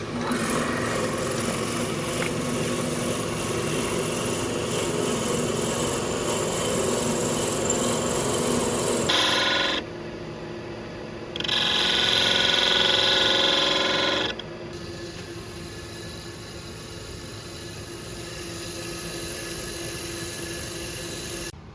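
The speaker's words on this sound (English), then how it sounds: "Now we're going to put a hole in the bottom for the finial." A power tool whines through wood, drilling a hole in the bottom of a turned wooden Christmas tree birdhouse ornament on a lathe: a long steady mechanical drone that cuts out, then returns as a shorter high-pitched burst.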